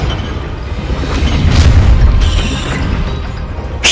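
A Bombarda spell explosion in Hogwarts Legacy: a deep, rumbling boom that swells through the middle, with a sharp crack near the end over a steady low rumble.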